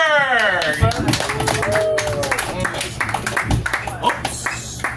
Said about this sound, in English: let's have one more round of applause for our host